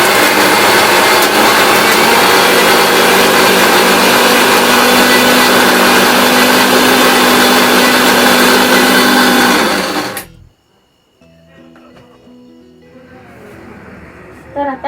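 Kitchen mixer grinder grinding soaked batter for dahi vada, a loud close whirring grind that runs steadily for about ten seconds, then cuts off abruptly, leaving quiet background sound.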